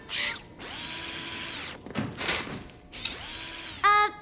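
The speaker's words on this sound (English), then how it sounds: "Riff, screwdriver." A power screwdriver in a cartoon rescue scene whirs in several loud bursts that spin up and wind down, with a short ratcheting click at the end.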